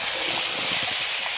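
Spice paste hits hot oil in a pan while rui fish curry with potatoes is being cooked, giving a steady, loud, close hiss of sizzling that carries unbroken throughout.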